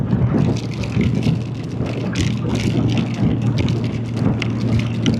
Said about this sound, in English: Nothing wrong with a little rain.